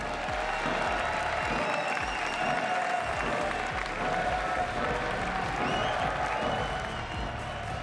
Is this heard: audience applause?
yes